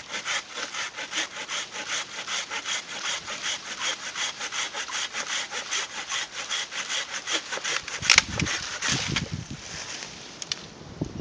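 A folding hand saw cuts through a 2-inch piece of hardwood in steady, rhythmic rasping strokes, close and clear, ending with the piece snapping free and a few final scrapes.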